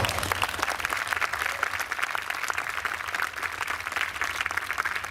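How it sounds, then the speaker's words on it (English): Steady crowd applause rings out for fallen New York State Police troopers at a Special Operations Response Team demonstration, dense clapping sustained at an even level throughout. "we think it's those guys that deserve a real round of applause"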